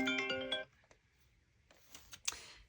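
A phone ringtone from an unknown caller chimes briefly as a bright melodic tone, then cuts off, leaving quiet room noise and a few light clinks.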